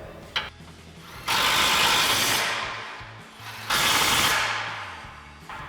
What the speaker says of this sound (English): Now we're going to grab our 21mm socket on our impact and tighten these down.